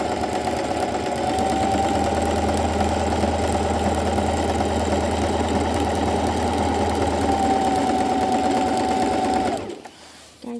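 A sewing machine stitches a French seam in one long, loud, steady run of fast mechanical whirring that stops abruptly near the end.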